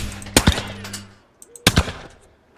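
Shotguns fire at a clay target shooting competition in London, a loud close double report, then a second pair of sharp blasts about a second later, each ringing out briefly.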